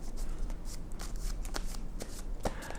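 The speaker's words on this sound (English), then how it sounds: "the rest of these cards are going to get shuffled back into this deck" A deck of character cards for the Legends of the Three Kingdoms tabletop game is shuffled by hand, giving a close, continuous papery rustle broken by quick clicking snaps.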